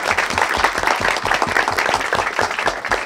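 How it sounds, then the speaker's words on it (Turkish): A studio audience on a Turkish talk show claps together, a close, loud burst of many hands beating in a quick, slightly uneven rhythm that holds steady to the end. "Alkış."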